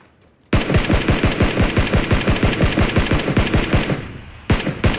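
Automatic weapon fire in PUBG (Battlegrounds): a loud, rapid burst of evenly spaced shots runs for about three and a half seconds, then stops and a short new burst follows.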